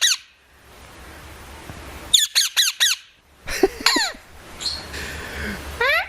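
A pet bird squawks and screeches in a varied run of calls: a single shriek, then a quick burst of four sharp squawks, followed by swooping chirps and warbling cries, close and loud with quiet gaps between.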